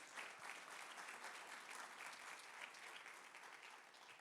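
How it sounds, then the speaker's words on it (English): Audience applause for the hosts and panel at a university conversation event at VSU, a steady dense wash of many hands clapping throughout, moderately distant with no voices on top. "Ladies and gentlemen, another round of applause for our hosts and for our panel."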